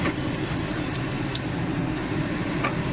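Carrots frying in a mix of oil and ghee, giving a dense, continuous sizzle and bubbling at close range, steady throughout with no talking.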